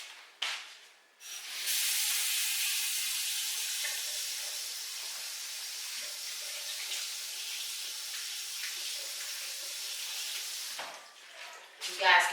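A honey container is rinsed under a running kitchen tap, giving a steady close rush of water that runs for about ten seconds before it cuts off, with brief clatter around the edges.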